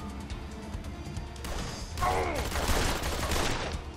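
Gunshot headshot in the detective video game Blues & Bullets, a sudden close crash of gunfire and impact breaking over a low game soundscape, followed by a sustained rumbling tail.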